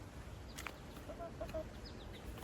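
Black Jersey Giant chickens forage outdoors, giving a few faint, scattered clucks over a steady low background hum, with no one talking.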